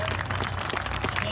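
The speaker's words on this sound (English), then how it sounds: "Give Luke a round of applause, folks." A crowd at a live lumberjack-style show claps for a contestant in a dense, steady patter of applause through the whole short moment, close and moderately loud.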